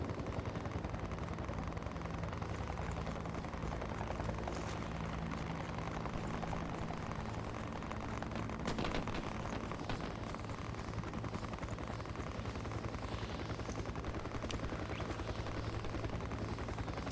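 A helicopter in the battle royale video game Fear the Wolves drones steadily at a distance, a faint, continuous rotor and engine hum with no pauses and no talk.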